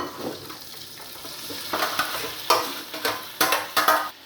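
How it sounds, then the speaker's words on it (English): Roast tomatoes sizzle and crackle in a frying pan while a utensil scrapes and stirs in repeated strokes, close and fairly loud. "we just want to scrape all of this into the frying pan to cook down a little bit more"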